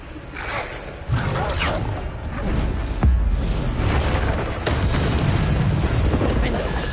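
Bombarda spell blasts in Hogwarts Legacy boom amid combat, several deep bursts over a noisy battle bed, with a voice talking throughout.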